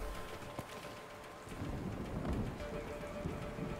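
In A Way Out, steady rain falls throughout while thunder rumbles low and rolls in after the first second and a half, with no one talking.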